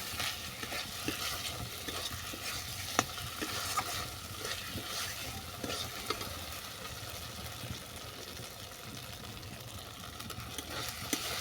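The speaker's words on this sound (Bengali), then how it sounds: "দিয়ে দিচ্ছি ভেজে রাখা পটল পটলটাকে ভালো করে মিশিয়ে নেবো মশলার সঙ্গে" Fried pointed gourd is stirred into a sizzling yogurt and spice mixture in a pan, with a continuous close frying hiss broken by repeated scraping strokes.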